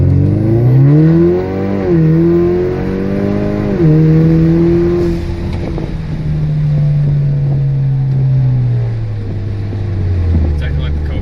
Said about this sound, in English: It misses at idle, but pulls just fine.